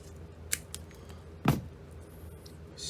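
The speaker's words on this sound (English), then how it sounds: "Let's try to cut one of the inside cable." A Klein wire stripper snips through an inner conductor of a cable: one sharp, close cut with a crisp snap, preceded by a small click, in an otherwise quiet room.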